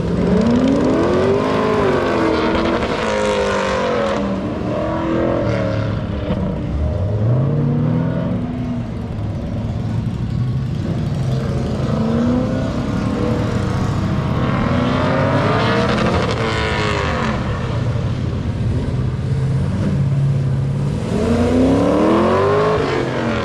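Race cars running an autocross at Beech Bend Raceway Park, engines revving and rising and falling in pitch as they accelerate and pass, loud and steady with no talk.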